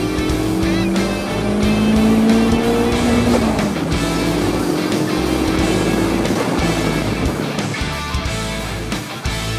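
A 1986 VW Scirocco GT 16V Turbo engine runs loud and close, its steady drone rising and falling as it revs, with no speech over it.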